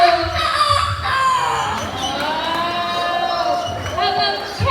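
A show bird imitates a rooster's crow in a series of strained, wavering calls, close and fairly loud, with people talking around it.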